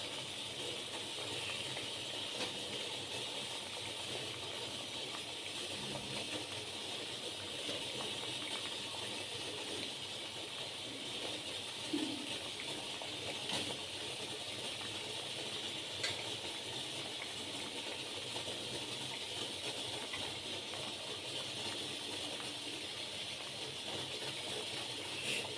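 Water boils in a covered dhokla steamer for steaming stuffed brinjal and potato, giving a quiet, steady steam hiss with faint bubbling and no talk.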